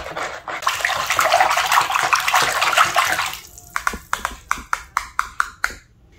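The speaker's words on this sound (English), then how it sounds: "I'm going to take my whisk and I'm just going to carefully stir these ingredients together" A whisk beats bread pudding ingredients in a bowl, first as a busy continuous sloshing swirl, then as a run of about ten rhythmic, distinct clicking strokes against the bowl.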